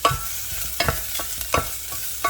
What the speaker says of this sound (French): Je vais mettre un petit peu d'huile d'olive pour faire revenir l'ail et oignon ensemble